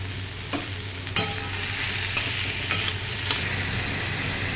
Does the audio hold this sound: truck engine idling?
no